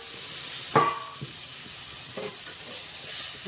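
Maggi noodles sizzle steadily in a pan while a utensil stirs them, with a few soft scrapes and clinks.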